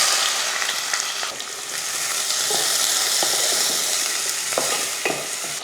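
Sliced onions, garlic cloves, fenugreek and curry leaves frying in oil for a fish curry, a loud dense sizzle close up with scattered stirring taps and scrapes throughout.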